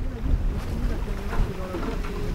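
Strong wind blowing steadily while out on a boat on a rising tide, with a constant rumbling roar close to the microphone and faint water motion beneath.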